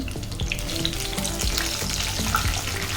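Cinnamon, cardamom pods and bay leaves sizzle steadily in hot oil with browned onions for beef rezala, a continuous close frying crackle with faint stirring and no voices.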